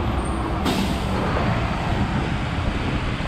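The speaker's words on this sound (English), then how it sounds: "I'll wait for this bus to pass." A city bus rumbles past loud and close on a Montreal street in Little Burgundy, a sharp hiss of released air brake cutting in early, then steady engine and road roar for the rest.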